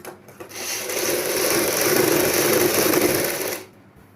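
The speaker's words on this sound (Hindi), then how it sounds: "जैसे मैंने ये सिलाई लगाई है, चारों साइड हम इसी प्रकार सिलाई कंप्लीट करेंगे।" A sewing machine stitches the lining of a choli, whirring in one steady, close run of about three seconds before stopping, with no talking.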